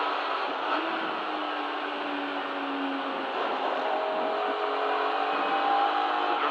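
A BMW race car engine at Donington Park during a Kumho BMW Championship race, overheating with the oil warning light on and held at part throttle, drones steadily and loudly at near-constant pitch from inside the car with no talk.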